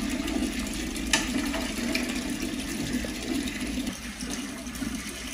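Aquarium water being changed, heard as a steady, close rush of running water with a faint pump-like hum beneath it, easing slightly toward the end, with no speech.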